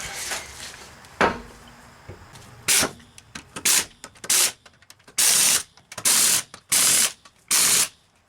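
A ratchet tightening a nut during outer tie rod replacement on a 2002 Mitsubishi Lancer, first a few scattered clicks, then a run of loud, evenly spaced bursts of rapid clicking close by.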